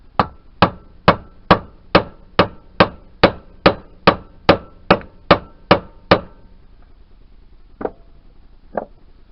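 Hammer blows striking parts of a 1988 Yamaha DT125R motorcycle engine during seal and bearing removal: fourteen sharp, evenly spaced metallic strikes in a steady rhythm, then a pause and two lighter, slower taps, close and loud.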